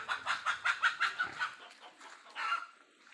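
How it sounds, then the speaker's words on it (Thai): A red mother hen at a rice-field hut clucks in a quick, rhythmic series of soft, close calls, then gives a couple of scattered clucks that trail off. "ไก่แม่แดงนี่งามจังเลย"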